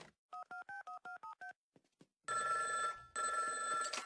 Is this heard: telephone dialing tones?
yes